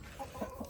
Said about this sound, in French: On a ici une petite poule qui couve.